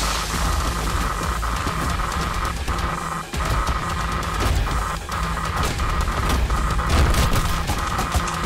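Gunfire rattles in the first-person shooter Trepang2, with dense rapid shots and booming impacts over a busy game soundscape, loud and continuous.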